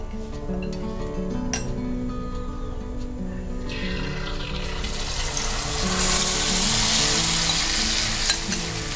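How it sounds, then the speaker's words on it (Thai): Cha-om (acacia leaves) sizzle and crackle steadily in hot oil over medium heat, with stirring and splashing noises that grow louder and brighter partway through. "พอน้ำมันเริ่มร้อนนะคะ ให้เราปรับเป็นไฟกลางนะคะ เสร็จแล้วก็ เทชะอมลงได้เลยค่ะ"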